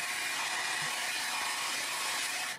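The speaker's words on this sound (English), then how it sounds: "I'm going to grab my heat gun, my blow dryer here, and dry it up" A blow dryer used as a heat gun dries paint on a Christmas ornament colored with Derwent Inktense pencils, giving a steady, close, loud whooshing rush of air that runs unbroken with no talking.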